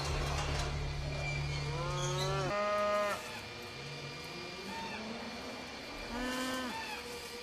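A cow moos several times, long and loud, over a steady background rumble. A drawn-out low call comes first, followed by a few shorter, rising moos.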